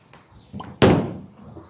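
A urethane bowling ball (Storm IQ Tour 78/U) strikes the pins with one sharp, loud crash that decays over about a second, preceded by a soft rolling rumble down the lane.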